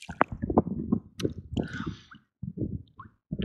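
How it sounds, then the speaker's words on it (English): Mudlarking find from the River Thames being washed by hand in river water, giving close wet squishing and dripping sounds in short bursts with brief pauses. "let's give this a little wash"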